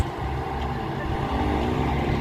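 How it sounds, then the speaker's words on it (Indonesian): A Fuso truck passing on a hill road, heard as a steady, close, low engine rumble with a broad roar that holds evenly throughout. "Ya ini ada truk"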